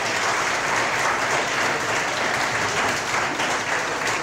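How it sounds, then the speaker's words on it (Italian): Sustained applause from an audience at a women's literary prize ceremony in Curinga, a dense, steady wash of many hands clapping at close range throughout, with no voices over it. "invito a fare un applauso per, sia per l'iniziativa che per la giuria"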